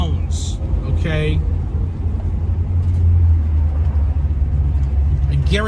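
A 1977 Pontiac Trans Am SE400 engine rumbles steadily at close range throughout a test drive, a low continuous drone with a brief swell, while someone talks over it.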